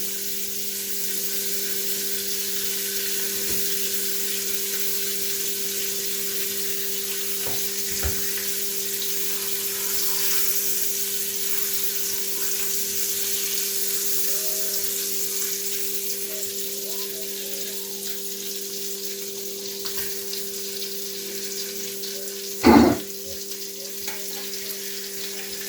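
Butter sizzles steadily in a pan of leftover bacon fat, a constant bright hiss with a steady hum beneath it and one sharp clatter late on.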